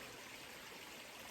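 Steady, continuous rush of a stream of water flowing through woodland, a close, even wash of broadband noise with no pauses and no voices.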